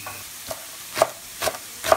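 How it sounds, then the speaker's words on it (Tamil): Chillies frying in a pan for vegetable noodles, heard as a soft steady sizzle with a few brief stirring scrapes and clinks recurring about every half second, close and moderately loud, no talking. "இப்போ வந்து நம்ம இந்த சில்லிஸையும் வந்து ஃப்ரை பண்ணிக்கலாம்."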